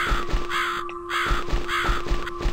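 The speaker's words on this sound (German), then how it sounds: "Ich verstehe, dem Raben folgen." A raven in the video game The Cat Lady gives repeated harsh caws over a steady droning ambient hum and low rhythmic thumps, fairly loud and with no voices.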